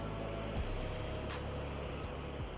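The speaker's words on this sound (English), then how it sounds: "All we can hear is a truck behind you." Truck engine rumbling behind a caller on a phone line, a steady low drone with faint clanks, muffled and thin through the call.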